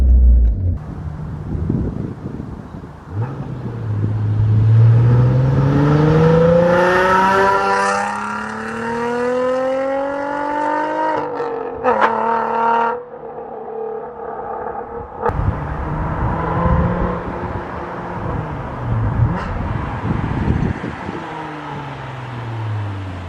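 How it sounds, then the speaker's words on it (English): A Nissan 350Z with a new exhaust passes outside: engine revs climb in a rising drone as it accelerates past, then fades, with wind buffeting the microphone and a second, quieter rev-up toward the end. "let's hear how good it sounds from outside of the car"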